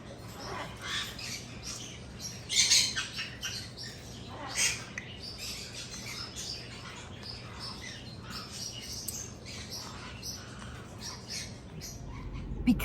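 Cape parrots and golden conures squawking near and loud, with repeated harsh calls and chirps breaking out in bursts over a low background hum.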